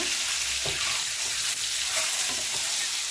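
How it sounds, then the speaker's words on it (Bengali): An egg fries in a hot pan with a steady, loud sizzle that holds close and constant the whole time, with no talking. "ডিমটা ভেজে নেব,"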